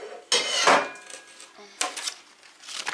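Stainless steel cookware clanks and scrapes as a roughly 3-litre TalleR pot is handled up close, with a couple of louder knocks and rattles separated by quieter handling noise.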